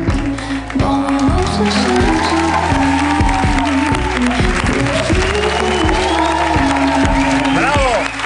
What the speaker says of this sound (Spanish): Un aplauso para Johann Stotten, que está aquí.